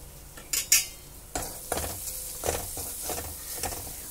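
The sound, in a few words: stirring spices and turmeric in a pan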